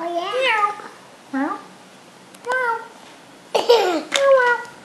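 A child imitates a cat, voicing a series of separate high-pitched meows with pauses between them, close and clear.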